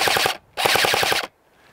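An Umarex TS40MA ACR airsoft rifle fires two quick full-auto bursts of rapid clattering shots, close and sharp, separated by a brief pause and followed by quiet.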